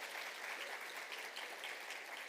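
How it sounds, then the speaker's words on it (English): Audience applause at a university startup showcase event, steady continuous clapping from a room of people, moderately loud and unbroken throughout. "Big round of applause for you."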